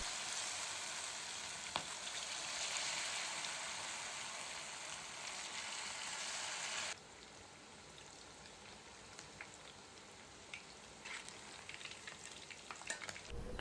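Chicken pakoda pieces fry in hot oil for a crispy Odia-style snack, giving a steady, dense sizzle that is loud at first and then drops to a quieter, even crackle with scattered pops, with no talking.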